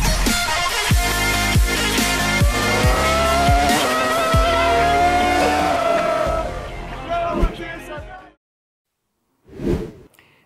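Formula 1 race cars with V10 engines scream past at close range with tyres squealing, a loud, layered howl of rising and falling engine pitch that cuts out abruptly, then returns as one brief whoosh.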